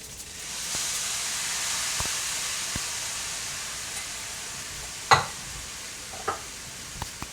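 Kimchi fried rice frying in bacon fat with a splash of kimchi juice, a steady close sizzle and hiss running throughout, broken by a few sharp stirring scrapes and clacks near the end.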